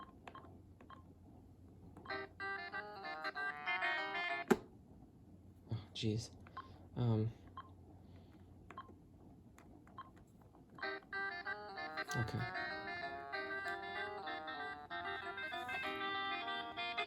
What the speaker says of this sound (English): whichever ringtone is on this handset is going to sound all muffled.